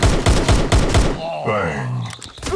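Rapid pistol gunshots from the video game Guns of Boom, a quick burst of about six sharp, loud cracks in steady rhythm, then a quieter electronic game sound with some talk.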